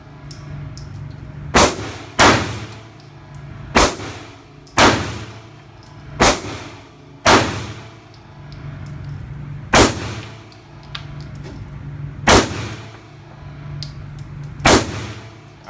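Remington R51 Gen 2 pistol fired at an indoor range, about nine sharp, loud shots spaced irregularly across the stretch, each with a bright echoing crack over a steady background hum.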